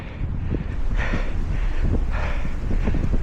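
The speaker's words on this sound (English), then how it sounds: "Wowzers, that wind." Strong wind gusts buffet the microphone on an outdoor run, rising in repeated loud rushing bursts with a constant low roar underneath and no speech.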